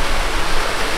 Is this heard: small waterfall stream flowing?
yes